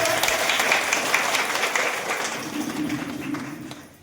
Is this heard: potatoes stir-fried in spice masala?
no